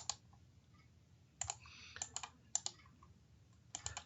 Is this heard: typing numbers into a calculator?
yes